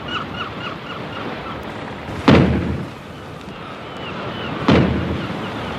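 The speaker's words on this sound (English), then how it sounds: "They're sounding the alarm gun." An alarm gun firing from the Chateau d'If in a 1964 Count of Monte Cristo film, two loud, deep booming shots a couple of seconds apart over a low rumble, with faint bird calls at the start.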